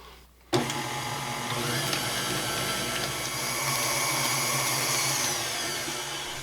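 An electric mixer starts abruptly and runs steadily, beating maple cake batter with eggs and butter in a continuous, even whir.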